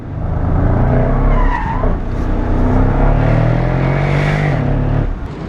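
A 2016 Mercedes SL 63 AMG under hard braking, its tires squealing loudly and steadily over a dense roar of engine and road noise, close throughout.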